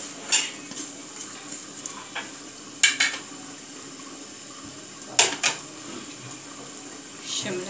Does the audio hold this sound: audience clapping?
no